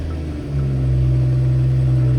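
A BMW X4 engine starting up in a parked vehicle, a short crank then a loud, steady low idle rumble that settles in close and continuous.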